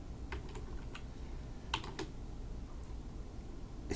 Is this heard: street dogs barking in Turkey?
no